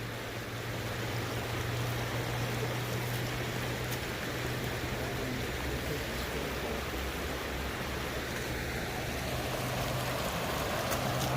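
Russian River water rushes against a canoe pinned in the current, a loud continuous broadband roar of flowing water with no break.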